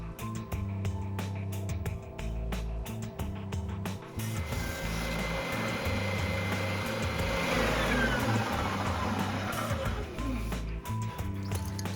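A belt sander trims thin plastic tambour door slats, a harsh continuous whirring with rising grinding scrapes as the plastic is fed in, close and loud, no talking.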